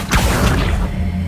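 The Accio summoning spell in the Hogwarts Legacy video game: a quick magical whoosh with a soft thud near the start, followed by a shimmering, mechanical-sounding tail that fades over about a second.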